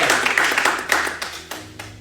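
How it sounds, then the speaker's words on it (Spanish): Brief applause from a church congregation praising the Lord, a burst of claps fading to a few scattered hand claps by the end. "Bríndale un fuerte aplauso al Señor."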